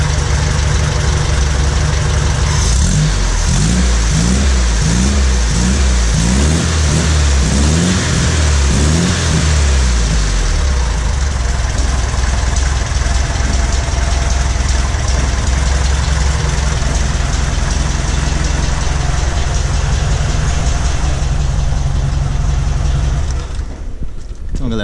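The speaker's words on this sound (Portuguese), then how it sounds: "vou ligar aqui. O motorzinho tá redondinho." Volkswagen Fusca (Beetle) engine running on 15W40 diesel oil, cranking and catching, then settling into a steady, close, rumbling idle that runs on alone before a brief clunk at the end.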